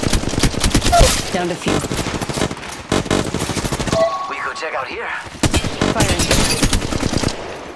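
Rapid, dense gunfire from Apex Legends Mobile rattles almost without a break in loud automatic bursts, with a short lull in the middle before firing resumes, and a voice speaks briefly over it.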